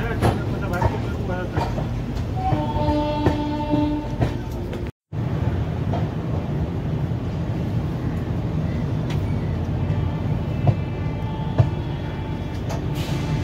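Duronto Express 12245 departing Howrah station, a steady low rumble and rattle of carriages rolling along the track, heard from inside, constant and moderately loud with brief tonal sounds and people talking in the background.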